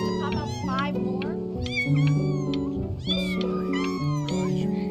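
Several stray cats, a mother and her litter of kittens, meow over one another in close, insistent, overlapping cries that run continuously, with a voice speaking among them.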